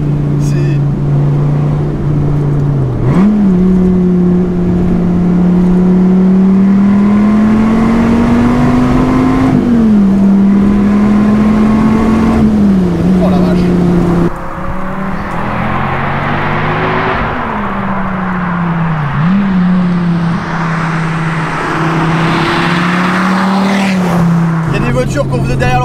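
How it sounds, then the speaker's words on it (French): An SRT Viper GTS engine revs hard and climbs steadily in pitch through several gear changes, loud and close, with someone talking over the droning V10. "Je suis à 3000 tours, j'accélère progressivement."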